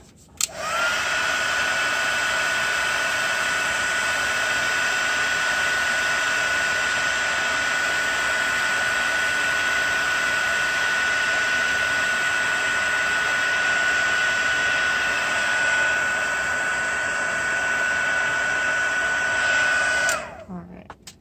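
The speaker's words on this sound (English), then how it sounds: "And heat tool again" An embossing heat tool blows a loud, steady whirring hiss for about twenty seconds while it melts embossing powder into a faux metal wax seal. It cuts off abruptly at the end, and no one speaks over it.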